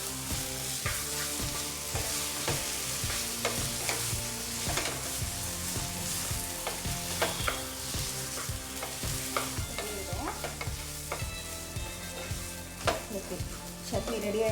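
Okra chutney sautéing in a pan with a continuous sizzle, broken by frequent rhythmic scraping and clinking of a spoon stirring against the metal, close up and moderately loud throughout.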